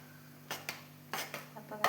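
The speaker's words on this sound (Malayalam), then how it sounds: "അപ്പം ഞാനൊന്ന് ഇളക്കി കൊടുക്കട്ടെ." Grapes simmering in a pot of boiling water are stirred with a utensil, giving several sharp metallic scrapes and clinks against the pot, spaced irregularly over a faint steady hum.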